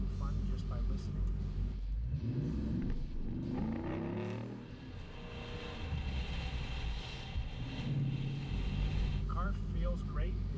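Heard from inside the cabin of a 1972 Dodge Demon, the engine gives a low, steady rumble that swells and eases with throttle. A voice talks over it at times.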